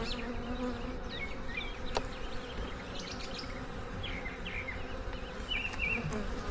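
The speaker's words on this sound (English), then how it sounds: "Still a lot of bees in there." Dense buzzing of many honeybees from an opened hive during a queen search for a colony split, a steady close swarm drone with scattered individual bees whining past, no voices.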